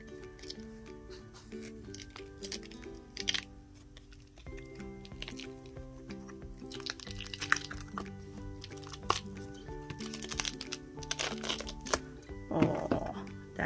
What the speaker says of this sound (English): So I'm just going to demold this.